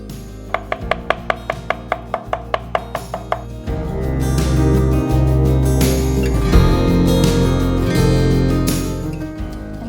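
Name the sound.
knife mincing green onions on a cutting board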